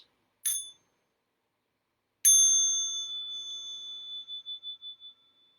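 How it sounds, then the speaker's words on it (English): A small meditation bell sounds twice: a brief first tap, then a fuller strike whose clear ringing tone lingers and slowly pulses away into silence. "Small bell for stretching and massage."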